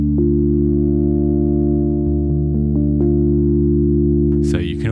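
An Arturia Pigments software synth patch plays through an SEM low-pass filter with keyboard follow: a loud sustained harmonic tone with small clicks as notes change, ending in a short noisy burst.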